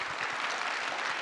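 An audience at a talk event applauds, a dense burst of many hands clapping that fills the whole short moment without letting up.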